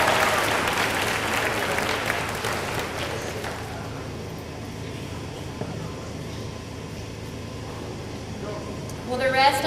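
A banquet crowd applauds two head cheerleaders at an athletic banquet, a loud burst of clapping that fades within a few seconds into quieter room murmur before a voice returns at the end.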